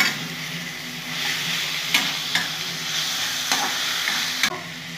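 Ginger paste sautés in a hot pan for a mutton curry, giving a steady close sizzle with a few sharp scrapes of a spoon against the pan, and no talking.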